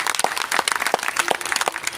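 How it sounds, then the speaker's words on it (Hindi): Audience applause for a group of children at a Buddha vihara unveiling ceremony, a short burst of dense clapping with scattered sharp claps standing out, moderately loud and steady throughout. "मैं चाहता हूं इन बच्चों के लिए एक बार जोरदार ताली आपकी तरफ से होना चाहिए।"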